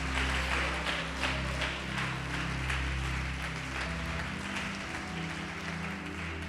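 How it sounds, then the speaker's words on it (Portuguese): Scattered clapping from a church congregation over sustained worship music, moderately loud and continuous throughout. "pode aplaudir, adorar."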